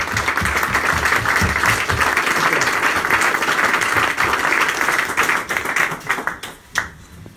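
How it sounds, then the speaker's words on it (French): Audience applause at the opening of a local office on a street in Rive-de-Gier, a dense burst of clapping that carries on steadily, then thins and fades near the end. "Ça s'applaudit,"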